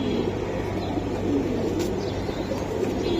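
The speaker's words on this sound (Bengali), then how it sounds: "এই যে একটা কবুতর আমি দেখাই দিলাম, ডিমে আছে" Pigeons kept in a loft, including a hen sitting on eggs, give low soft coos that murmur steadily under a constant background hum, with no talk over them.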